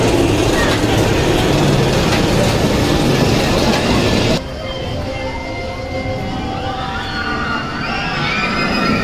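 The Katun roller coaster train at Mirabilandia running along its track, a loud roaring rumble with rattling wheels that suddenly drops to a quieter, distant rolling hiss and faint squeal as the train moves away.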